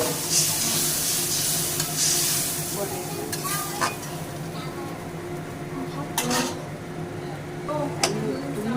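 Fish curry simmering in a pan as water goes in, a steady sizzle and bubbling with occasional sharp clinks of a utensil against the pan, voices faintly present in the background.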